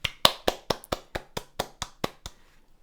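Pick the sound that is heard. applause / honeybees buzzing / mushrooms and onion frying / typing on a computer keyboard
applause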